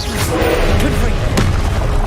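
Confringo blasting spell in Hogwarts Legacy, a loud booming burst with dense low rumble and a sharp crack near the middle, mixed with spell effects and a voice speaking.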